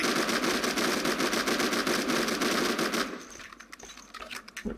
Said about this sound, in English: I'm going to use the coaxial gun here